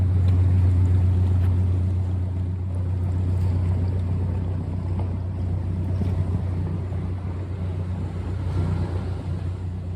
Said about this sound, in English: Another boat passed.